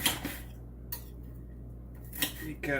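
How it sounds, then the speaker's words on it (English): A knife cuts an onion on a board, giving a few sharp, separate chops and clicks with quiet gaps between them, and a person speaks briefly near the end. "And now cut onion."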